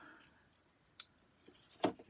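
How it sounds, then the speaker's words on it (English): Scissors snip through sewing threads on a stitchery butterfly charm block, giving two brief, quiet cuts about a second apart against near silence. "cut the threads"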